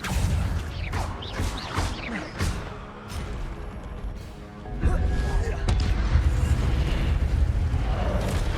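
Incendio fire spells cast in Hogwarts Legacy erupt as a run of whooshing, explosive bursts, the later blasts swelling into a sustained fiery roar, mixed with other game effects and a voice.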